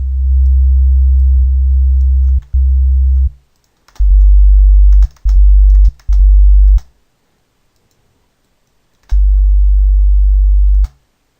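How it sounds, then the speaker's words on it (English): Deep, heavy synthesizer sub bass notes for dubstep played in short bursts with gaps of silence between, loud and booming, with faint clicks in the background. "That's a pretty decent sub bass."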